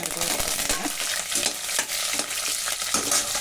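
Green chillies hit a spluttering tempering of mustard seeds and urad dal in hot oil, making a loud, dense sizzle full of crackles, with repeated stirring scrapes throughout.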